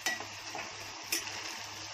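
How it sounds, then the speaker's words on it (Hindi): Chicken being fried with masala in a pan: soft steady sizzling under repeated scraping strokes of a spoon against the pan, close and fairly quiet, with no voices. "अपना 2 मिनट चिकन को भून लिया।"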